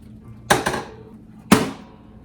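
Two slices of plain white bread being pushed into a toaster oven: a couple of close, sharp clunks, then one more knock a second later, over a quiet room.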